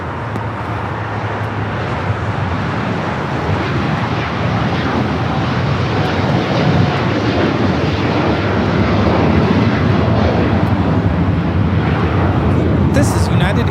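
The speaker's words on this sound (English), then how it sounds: "This is United Airlines Flight 32 taking off to Tokyo Narita on the 787-9 Dreamliner." United Airlines Boeing 787-9 Dreamliner taking off at LAX, its jet engines giving a steady, broad roar that builds gradually over about fourteen seconds, with someone talking over it.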